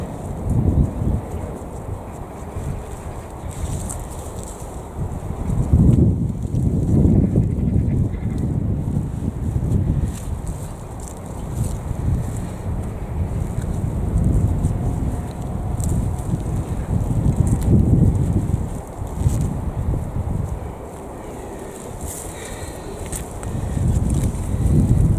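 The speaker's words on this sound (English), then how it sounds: "This is so windy." Strong wind in a kitchen garden buffets the microphone in loud, continuous low rumbling gusts that swell and ease throughout, with no speech.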